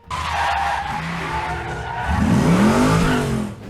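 A 1971 Chevy Nova engine growls loudly while tires squeal and skid, the pitch sweeping up and down as the car slides and accelerates.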